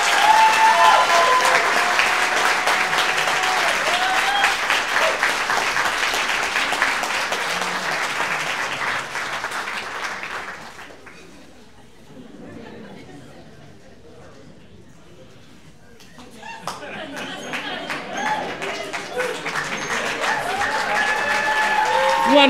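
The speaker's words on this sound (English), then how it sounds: "One more round of applause." Sustained audience applause at a storytelling event, loud and dense, dipping to a quieter stretch midway before swelling again to full strength; people speak over it.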